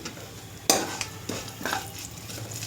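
A pan of tempering with turmeric, made for an ivy gourd chutney, sizzles steadily while a spoon stirs it, producing several distinct scrapes and taps against the metal over the continuous frying hiss.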